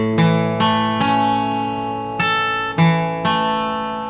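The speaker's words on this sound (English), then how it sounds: "So let's go through the picking pattern." Fingerpicked acoustic guitar playing the picking pattern for a song: clear plucked notes ring over a steady bass in an even four-count rhythm. Close, loud and solo, with no voices.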